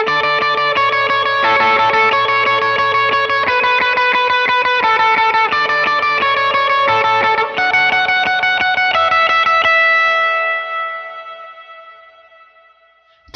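An electric guitar plays a sustained, distorted lead through stacked overdrives with only light reverb, a run of ringing notes that ends in one held note fading away.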